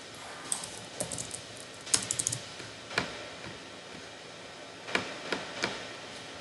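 Keys clatter on a computer keyboard as code is typed, quiet and close, with short bursts of taps and single keystrokes spaced by brief pauses.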